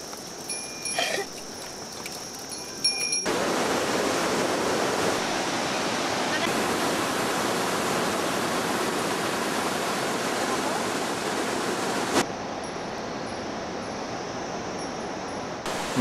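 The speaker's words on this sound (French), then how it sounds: "Nous passons la cascade de Ruxechara pour arriver à Dana." Rushing water of the Ruxechara waterfall on the Annapurna circuit trek in Nepal roars as a steady, loud broadband wash for most of the stretch, softening slightly near the end, with no talking over it.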